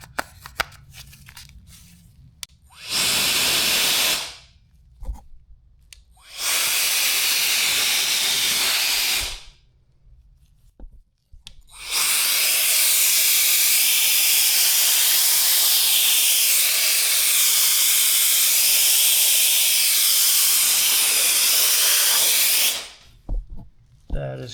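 A Wolfbox electric air duster fitted with a narrow pointed nozzle blows three loud, steady rushing hisses up close, two short blasts and then one long sustained blast, with quiet gaps between them.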